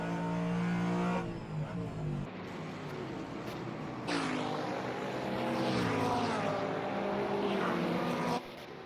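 Onboard engine of a GT3 race car at Bathurst in a racing video game, a loud droning engine note climbing and falling through gear changes, with shifts and brief drops in power.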